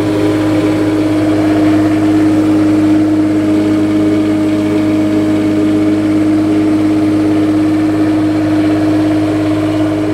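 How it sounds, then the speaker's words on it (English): Onboard 7500 diesel generator on a 2007 Fleetwood Discovery 39V class A diesel motorhome running steadily, a loud close constant hum with a stable drone that never changes pitch for about ten seconds. "See if I can show you the on-end diesel generator,"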